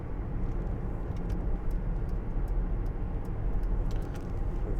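A 2005 Jaguar XJ 2.7 TDVi diesel saloon accelerates at speed, heard from inside as a steady low engine and road drone with faint ticking clicks above it.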